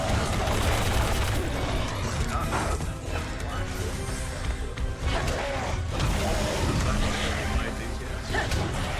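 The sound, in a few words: machine pistol gunfire in Resident Evil 6 video game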